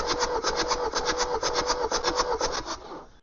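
A Ford Transit engine with hard cold starts and compression trouble cranks over steadily, the starter churning in an even, rapid rhythm close and loud before slowing and cutting off near the end.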